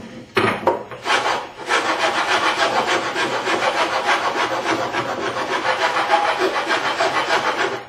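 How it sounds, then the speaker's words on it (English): A hand rasp files a wooden tenon in steady back-and-forth strokes, after a couple of sharp knocks at the start, a close, continuous gritty scraping with no voices. "I'm just going to take my rasp and just rasp it a little bit"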